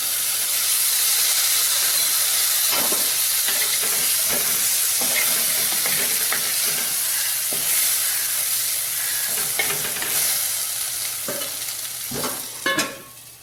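Stuffed bitter gourd cooks in a pan over a low flame, giving a steady soft sizzle and hiss with occasional faint clicks and stirring sounds throughout, and no talking.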